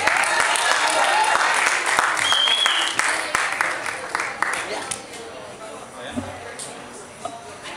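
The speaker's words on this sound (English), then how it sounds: "Please give a big round of applause for a wonderfully talented poet" Audience at a youth poetry event applauds a poet, dense clapping at first that thins into scattered claps and a few shouts, with a voice speaking near the end.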